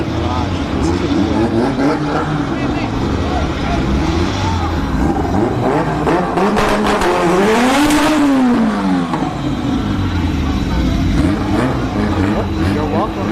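Drag racing at a no-prep event at Orlando Speed World, a Honda lining up against a Mitsubishi: loud, continuous engine roar throughout, swelling as a car screams past close by midway, with voices in the background.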